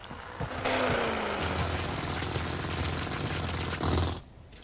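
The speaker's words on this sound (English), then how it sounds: "Let's keep drilling through here." A hand drill grinds through rock in Space Engineers with a steady, dense, loud mechanical buzz and rattle that runs for about four seconds before cutting off.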